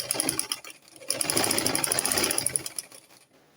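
A sewing machine stitches the under bust seam of a deep-neckline garment with skin illusion net, running in a steady close whir that starts briefly, pauses, then continues in a longer run before stopping.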